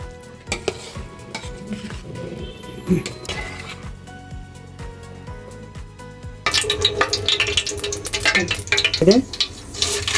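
Oil crackles and sizzles as a tempering of mustard seeds, chana dal, urad dal and nuts hits the hot pan, growing louder and busier midway, with stirring and utensil clinks throughout.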